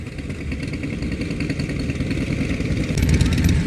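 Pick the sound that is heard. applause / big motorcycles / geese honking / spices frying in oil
big motorcycles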